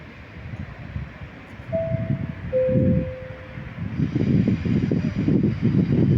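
A train pulls in at a platform of Padova railway station, its low rumble building and growing louder, with a brief high squeal as it approaches.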